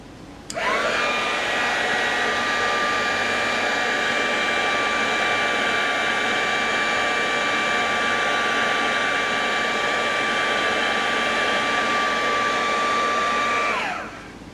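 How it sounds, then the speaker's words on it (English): Close, loud heat tool blowing hot air over sticky embossing powder in a paper craft demo, a steady whirring fan hum that starts abruptly, holds level for about thirteen seconds, then cuts off. "one of the tricks of the sticky embossing powder is not to heat it for too long"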